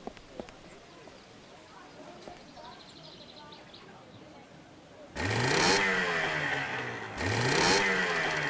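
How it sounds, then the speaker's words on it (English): An engine starts up and runs in the adventure game Secret Files 2: Puritas Cordis, a loud rising rumble that kicks in partway through after quiet ambience, briefly dips, then revs up again. "The engine works. That is good to know. But I'll switch it off for now."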